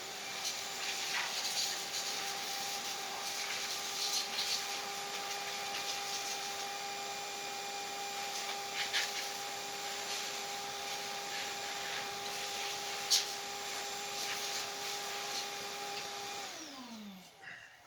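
Air is blown to clear dust off an old Pioneer TV, a steady loud blowing whine with a constant tone that holds for most of the stretch, then winds down abruptly near the end; no talking.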